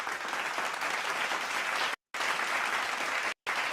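Recorded applause sound effect, a steady dense wash of clapping played loud and close, cut by two brief silent gaps.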